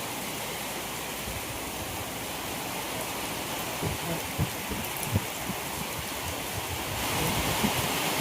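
Heavy rain pours steadily during a storm onto green leaves outdoors, a constant loud hiss with scattered closer splatters and drops, and no speech.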